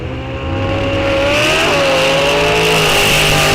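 Bracket race cars launching off the line at Rock Falls Raceway drag strip, a loud sustained engine roar with rising revs and a gear change midway, close and continuous with no talk.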